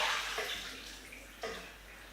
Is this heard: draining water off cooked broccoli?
yes